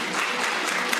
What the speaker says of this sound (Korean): 진심 어린 박수가 터져 나옵니다.